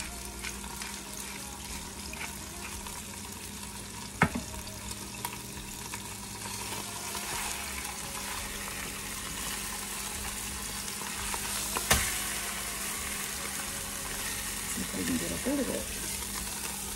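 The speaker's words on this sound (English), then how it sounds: "Get it flipped over, get some browning going on that other side." A pot roast sears in a Ninja Foodi with a constant, moderate sizzle, a couple of sharp clunks as the meat is handled and turned, and faint background noise throughout.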